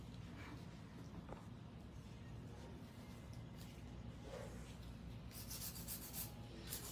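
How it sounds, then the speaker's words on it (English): A hand file rubs over acrylic nails in a steady, faint scratchy rasp of repeated strokes, brighter strokes near the end, with no talk. "A little bit of hand filing, smooth it out."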